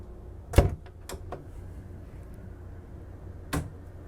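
A yacht cabin door on a Johnson 80 Flybridge clicks open with a sharp knock, followed by a few faint clacks, then another thud a few seconds later in a quiet room.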